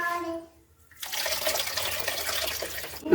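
Dissolved tamarind water poured into a simmering banana-leaf kuzhambu: after a brief tonal blip and a short pause, a steady splashing stream of liquid runs for about two seconds, close and moderately loud, ending in a sharper splash.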